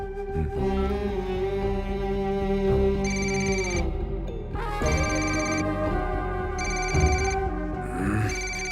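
A melodic phone ringtone plays continuously, with bursts of high electronic beeps repeating in a regular cycle, loud and close.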